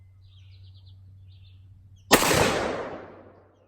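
A single round fired from a 458 SOCOM AR-15 rifle, a sudden loud, sharp blast with a ringing tail that fades over about a second. Before the shot there is a quiet outdoor lull with faint birdsong.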